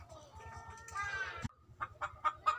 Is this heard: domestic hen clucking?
yes